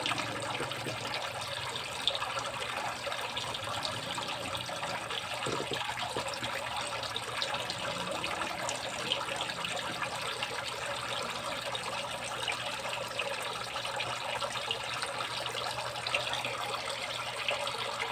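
Water runs steadily and continuously during a water change for hito catfish in a grow-out tank, a constant rushing flow that lasts throughout with no talk.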